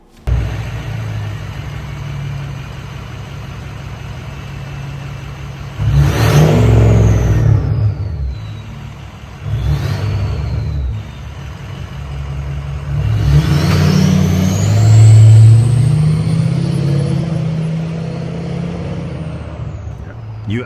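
Diesel truck engine with a KC 11-blade turbo revving in repeated bursts over a loud idle, with a turbo spool whine rising during each rev and a hiss on let-off.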